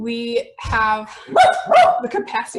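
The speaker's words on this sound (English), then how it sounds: "sorry, that's my dog" A dog barks and yips a few times close to a microphone during an online presentation, its sharp barks overlapping with a person speaking.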